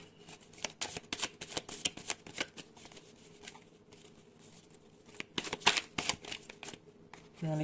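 Tarot cards are shuffled up close, a steady run of quick papery riffles and soft flicking taps that rises and falls in bursts over a faint background hum, with no speech.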